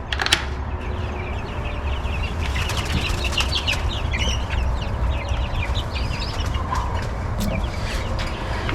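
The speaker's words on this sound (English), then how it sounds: "The chickens, they're getting big." A crowd of young meat chickens clucks and chirps nonstop from close by, with bursts of wing flapping and scratching over a steady barn hum.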